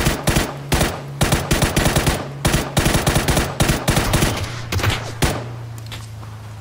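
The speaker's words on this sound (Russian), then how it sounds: "Стреляют." Gunfire in PUBG: Battlegrounds, with loud, close volleys of rapid shots in repeated bursts over a low steady hum, some rounds sharper and more distant-sounding toward the end.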